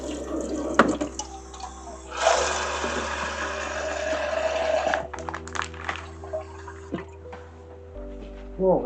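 Water poured into a pot while making a Finnish meat macaroni casserole, a steady liquid splash running for about three seconds in the middle, with quieter clinks and kitchen handling before and after.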